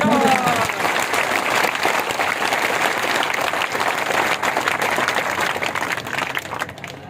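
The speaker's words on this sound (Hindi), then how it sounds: "मैं महावीर ओझा जी को कहूंगा वो खड़े हो और उनके लिए तालियां बजाकर कहूंगा।" Audience at a political gathering after a former minister's nomination breaks into sustained applause, dense and loud throughout, tapering slightly near the end.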